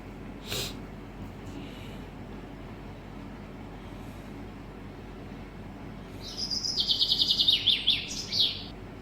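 Small birds chirp in a bird aviary at the Kalaignar Centenary Park, a quiet stretch broken late by a brief, busy flurry of high twittering calls close by.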